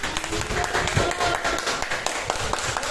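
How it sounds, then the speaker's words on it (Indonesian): Classroom applause for a student named Fitri, steady overlapping hand claps filling the room for the full length, with voices murmuring underneath. "Iya, tepuk tangan untuk Fitri."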